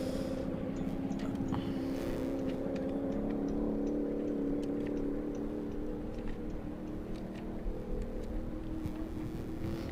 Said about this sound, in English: loud V8. It's a 1990 vintage Ford.